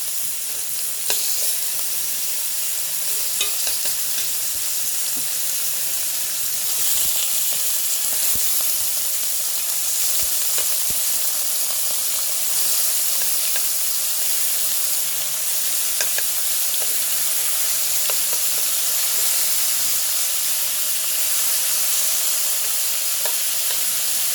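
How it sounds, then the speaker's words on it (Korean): Pork belly with green onion fries in a hot pan, a constant close bright sizzle and crackle of fat with occasional stirring pops, steady throughout. "이렇게 바짝 노릇하게 구워집니다."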